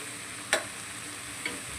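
Cluster bean curry is stirred in a pan over a faint, steady sizzle, with two short scraping strokes about a second apart.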